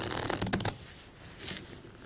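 A deck of playing cards is shuffled by hand in a card-magic setting, giving a quick riffling flutter for about the first 0.7 seconds that then drops to faint room noise.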